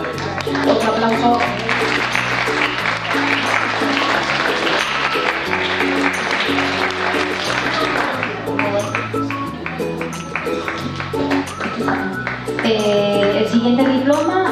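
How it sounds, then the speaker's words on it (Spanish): Audience applause at a drug-prevention conference awards ceremony, continuous crowd clapping over a steady musical background, sustained at an even level for about fifteen seconds. "Otro aplauso."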